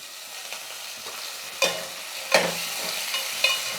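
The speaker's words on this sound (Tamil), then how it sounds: "இந்த வெங்காயம் தக்காளி வந்து நல்லா வதங்கட்டும்" Onions and tomatoes sizzle gently in a pan while a utensil stirs and scrapes several times, producing sharp clattering hits over the steady frying hiss.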